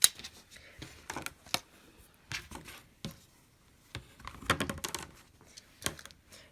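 A rotary cutter slices through quilt fabric blocks on a cutting mat, giving a series of close, short crisp cuts and rasping strokes with gaps between them, no talking.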